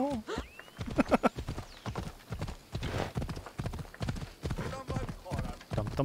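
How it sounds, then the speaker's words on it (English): A horse in Assassin's Creed Odyssey neighs, then its hooves clip-clop in a brisk, steady galloping rhythm, close and prominent, with in-game ambience beneath. "Horse! Come to me, my friend."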